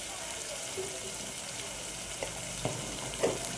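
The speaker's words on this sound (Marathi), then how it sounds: "मसाला छान परतून झाला आहे. आता आपण घालतोय लाल तिखट." A masala fries in a pan as homemade red chili powder is stirred in for a soybean rassa, producing a steady close sizzle with a few light spoon clinks.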